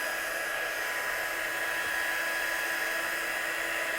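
A hair dryer runs steadily and alone at close range, drying watercolour-painted stamped card elements for a papercraft project, with a constant whirring blow that holds for the whole stretch.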